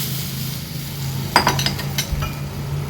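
Cooked dal tipped into a hot tempering and stirred, with a low sizzle underneath and a short run of metal spoon clinks and scrapes against the pot in the middle, close by and with no talking.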